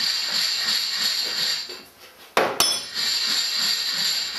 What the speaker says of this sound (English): a gentle bed down with a rubber hammer or a hide hammer.